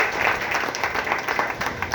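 A church congregation applauds in praise, steady dense clapping filling the space throughout with no pause.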